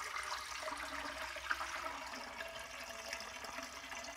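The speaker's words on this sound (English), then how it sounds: "So we're gonna pop some water in this toilet here." Water is poured into a toilet bowl, a steady splashing, gurgling rush heard close up and fairly quiet, continuing without pause and with no talking.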